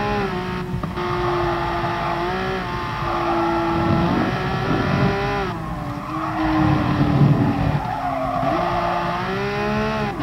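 A race car's rear end slides through a corner in Gran Turismo Sport, with loud sustained tire squeal over a droning engine whose pitch rises and falls through the slide.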